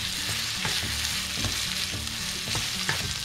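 Chicken fajita filling with peppers is stirred and fried in a pan, a steady loud sizzle broken by repeated scraping strokes of the utensil at an even rhythm, with no voices.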